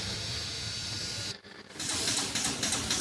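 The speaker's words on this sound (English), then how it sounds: "we'll go ahead and spray the bolts on the bottom too" Aerosol spray hisses onto bolts under a Toyota Sienna minivan during catalytic converter work: a steady loud burst, a brief pause, then a second burst, close to the can.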